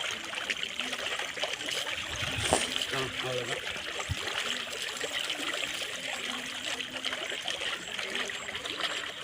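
Water is poured out behind a person during a village Mattu Pongal celebration, a steady stream trickling and splashing nearby while people talk over it.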